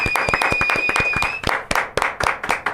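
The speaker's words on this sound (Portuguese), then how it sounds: "Uma salva de palmas" Studio audience welcoming a guest with applause: sharp, distinct claps in an irregular rhythm, with a steady high whine over the first half, then looser, more scattered clapping.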